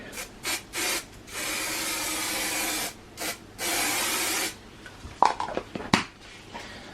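Super 77 spray adhesive hisses from an aerosol can in several bursts of varying length, close and fairly loud, followed by a few soft clicks and handling knocks.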